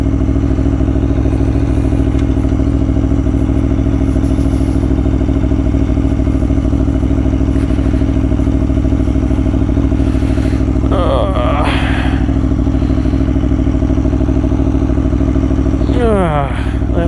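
Aprilia Tuono V4 1100 Factory motorcycle engine rumbling loudly and continuously at close range, a deep steady drone with brief rising whines and clatter near the end, with someone talking over it.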